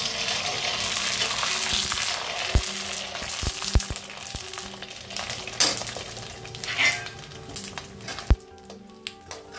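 Sabudana papad fry in hot oil with a busy crackling sizzle. Sharp utensil clinks and taps punctuate the sizzle, which eases toward the end.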